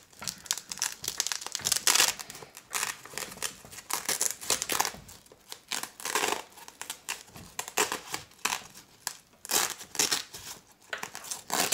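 Velcro fastening being pulled open on a handmade leather computer sleeve, a close, loud run of rough crackling rips and crinkles lasting several seconds, with no talk.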